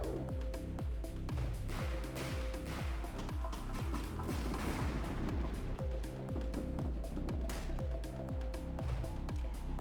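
Mortar and gun firing in the strategy game REDCON: a steady run of low, thudding shots at a regular rhythm, each with a short crack and rumble, continuing loud throughout with no talk.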